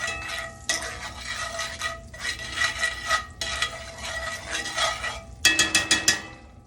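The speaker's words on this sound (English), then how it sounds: "I'm going to put butter and some olive oil. Okay. We'll go ahead and stir, let it coat the pan." Butter and olive oil being stirred in a pan, a run of scraping, clinking utensil strokes against the metal with short pauses, ending in a burst of sharper taps.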